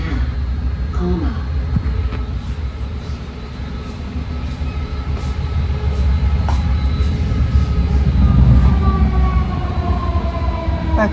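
A six-car BART Red Line train pulling into Colma Station, heard from on board: a loud low rumble with rising and falling electric motor whine and squealing tones as it slows, with no talk.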